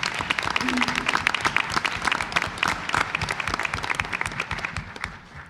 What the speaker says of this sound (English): I'd like to give them a round of applause for the outstanding work they did coming in.